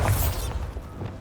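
A Bombarda spell explosion in Hogwarts Legacy: a short heavy boom with a rumbling low burst that fades quickly into a softer tail.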